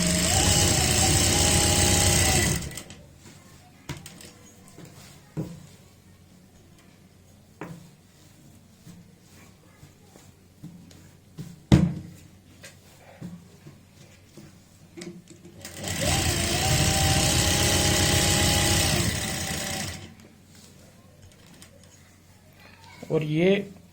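A sewing machine running in two loud steady bursts while stitching elastic along a saree belt, with someone talking in the quieter stretch between the runs and a brief start at the end.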